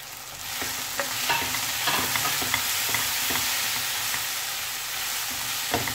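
Potatoes sauté with turmeric in a pan for aloo palak, giving a continuous hissing sizzle with irregular spatula scrapes and taps as they are stirred, close and without talk.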